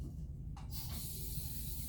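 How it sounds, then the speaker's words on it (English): Lysol disinfectant spray misting onto a bed, a short burst of hissing followed by a longer steady spray, close and fairly loud. "usually spray down the bed with Lysol."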